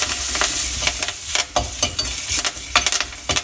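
Curry leaves and asafoetida sautéing in hot oil for pepper rasam, a close steady sizzle broken by repeated sharp spatula scrapes and taps against the pan.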